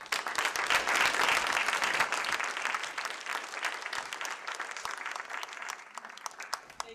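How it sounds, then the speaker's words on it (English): A room audience breaks into warm applause for Dr. Angela Shirley at a health care meeting. The clapping starts full and dense, then gradually thins out into scattered claps over several seconds. "So let's everyone give Dr. Angela Shirley a warm round of applause"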